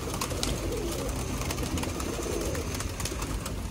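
Pigeons coo softly amid a dense, noisy outdoor background, the low throaty calls blending into a steady wash of sound.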